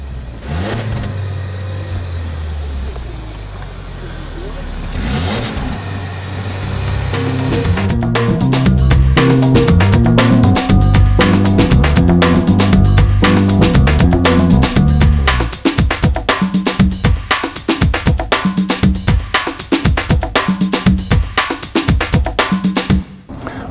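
A 2015 Lincoln MKC engine revs hard with the throttle floored, starting at a low idle rumble, then climbing to a loud sustained high-rpm roar before settling into a choppy, pulsing rev near the limiter, heard close.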